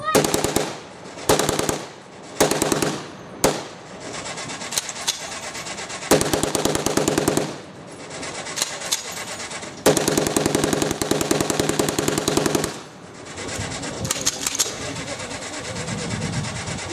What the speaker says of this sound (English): Machine gun team, demonstrate your piece.